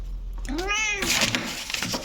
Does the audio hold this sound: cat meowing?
yes